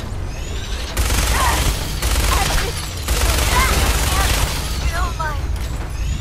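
Bursts of rapid gunfire from the Fallout 4 video game come in heavy volleys mixed with explosive booms, with a voice speaking briefly between shots.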